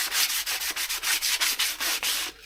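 A boat surface is hand sanded with 120 grit sandpaper in quick, steady back-and-forth strokes, about a dozen rhythmic scratchy passes heard up close with no talking.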